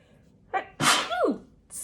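A single sharp sneeze with a short intake of breath before it, followed by a brief breathy exhale, close to the microphone.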